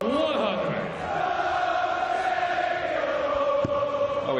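A large darts crowd sings together in a Cardiff arena during a Champions League of Darts final, a sustained, loud chant filling the hall with steady voices throughout.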